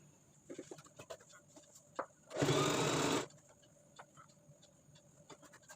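A sewing machine runs in one steady burst of about a second while stitching a churidar bottom, loud and close, with faint bird clucks and small handling taps around it.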